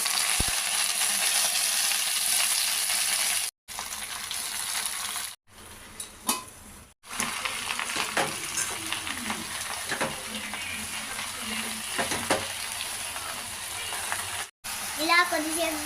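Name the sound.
amaranth leaves frying and stirred in pan with chillies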